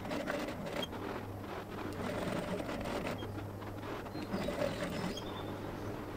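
Sewing machine stitching narrow folded piping onto a dress bodice, a steady close mechanical whir running continuously with slight rhythmic ticking, no talk over it.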